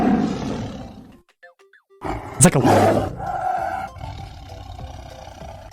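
A person vocally imitates a tiger's roar, a loud, rough burst in the middle, with brief speech before it and a lower growling tail after it.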